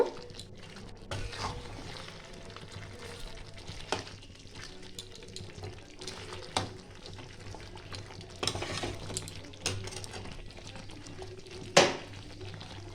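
A spoon stirs milk in a cooking pot, making soft scraping and sloshing strokes with occasional sharper clinks against the metal over a low simmering hiss. The sound is quiet and close, with no talking.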